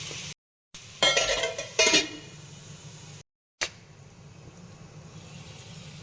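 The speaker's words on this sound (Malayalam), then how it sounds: "ഇനി കുറച്ച് ഇളക്കിയിട്ട് നമുക്ക് അടച്ചു വെച്ച് വേവിക്കാം" Breadfruit stir-fry is stirred in a pan, with two brief close bursts of scraping and clinking against a quiet background broken by short silent gaps.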